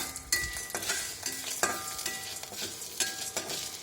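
Pepper and dried red chillies roasting in oil in a pan for rasam, with close, scraping stirs of a spoon over a continuous sizzle, the strokes coming at irregular intervals with no voices.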